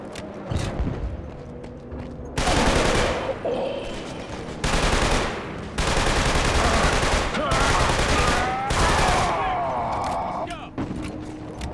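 Video game gunfire in Killzone 2: loud sustained bursts of automatic fire in several long volleys with short gaps, dense and close, mixed with in-game voices shouting.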